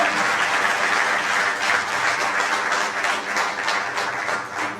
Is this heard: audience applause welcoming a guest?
yes